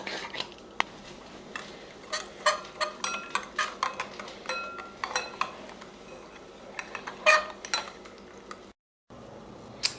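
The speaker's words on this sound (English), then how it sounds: "get a spoon and stir that in" A metal spoon stirring yeast into water clinks repeatedly against a bowl in quick, irregular taps, close and fairly quiet, then a brief silence near the end.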